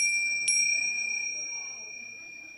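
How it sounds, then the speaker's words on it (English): A set of chimes is struck once during a church service, ringing out as a single bright metallic strike with clear sustained tones that slowly decay over a couple of seconds in a quiet room. "So we're going for the chimes today."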